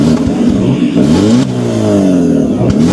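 An old car with an all-original line and a fully rebuilt engine turns over and settles into a loud, steady mid-pitched idle close by, with rising revs in the second half and a brief dip near the end.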